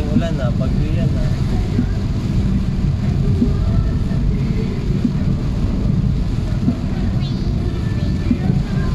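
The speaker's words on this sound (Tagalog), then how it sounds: "Hindi yan simpleng ulan ha. Bagyo yan ha." A storm with wind and rain hits along the zigzag road in Magallanes, Cavite. A constant, loud and dense roar of rain and wind fills the whole stretch, with voices faint beneath it.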